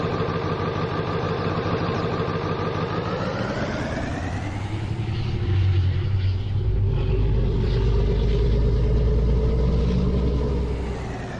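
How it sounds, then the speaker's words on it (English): Pickup truck engine in a farming video game, a loud continuous rumble that deepens and swells into a heavier low roar partway through, with no talking. "this truck is extremely loud"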